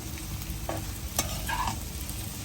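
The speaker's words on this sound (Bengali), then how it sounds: "ডিম ভাজা ডিম ভাজি ডিম অমলেট ভাজি বরফি ভাজি" An egg omelette sizzles in hot oil in a pan, a continuous close frying hiss with a few sharp spatula clicks and scrapes and no talking.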